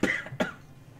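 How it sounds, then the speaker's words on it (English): Two quick, sharp coughs close to the microphone, the second following shortly after the first, then quiet. "Hold on, I'm going to cough."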